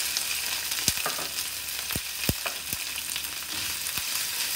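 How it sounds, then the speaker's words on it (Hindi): Onions fry in ginger garlic paste with a steady, dense sizzle, punctuated by several soft thuds and scrapes of stirring, close up with no talking. "ये देखिए प्याज फ्राई हो गए हैं।"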